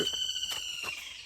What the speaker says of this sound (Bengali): ওই দেখো পাখি ডাকছে।